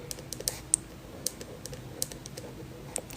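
Light, sparse keystrokes on a computer keyboard, a handful of separate crisp clicks spaced unevenly over a few seconds, close and fairly quiet with no voices.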